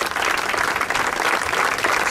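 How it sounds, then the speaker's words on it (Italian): An audience applauds a sculptor at the presentation of a statue, loud, dense and continuous clapping close by. "Io voglio rivolgere un applauso allo scultore"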